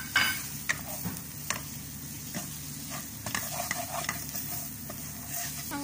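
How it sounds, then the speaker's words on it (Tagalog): Sauce with curry and salt goes into onions in a pan for pink macaroni pasta salad, followed by a continuous low sizzle and repeated scraping stirs, close and steady without speech. "ibuhos natin dito sa sibuyas"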